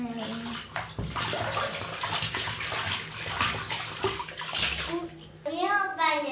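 A child splashes into a bathtub filled with orange-tinted water, sloshing and churning water throughout, with a voice talking over the noise near the start and a rising sung or squealed voice at the end.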